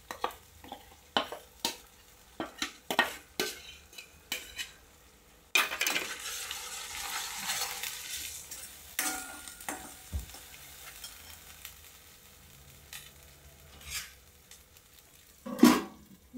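Coconut and onion masala paste cooks in a pan while being stirred, with scattered scrapes and clinks of a spoon against the pan and a soft sizzle in between, fairly quiet and irregular.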